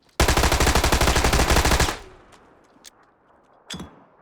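Rapid automatic gunfire from a weapon in the PUBG battle royale video game, a loud, dense burst of about 1.7 seconds with evenly spaced shots, then a decaying tail and a few faint distant clicks and a later short crack.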